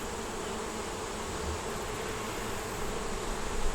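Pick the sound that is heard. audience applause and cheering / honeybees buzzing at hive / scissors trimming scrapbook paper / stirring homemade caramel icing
honeybees buzzing at hive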